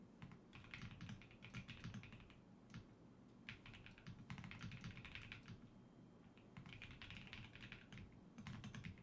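Fingers type on a custom-built mechanical keyboard in quick clicky bursts separated by short pauses, close and fairly quiet.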